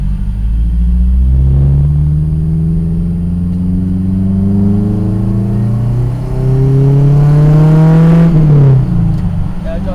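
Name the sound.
1987 Toyota pickup engine driving, hard deceleration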